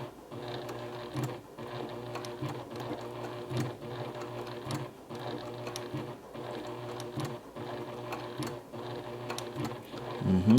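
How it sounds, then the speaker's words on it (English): A Juki Haruka TL-18QVP sewing machine stitching a patch, running steadily with a fast even needle chatter and slight pauses and speed changes as the fabric is guided, close and alone. "I'm just stitching, going along the curvatures of the face."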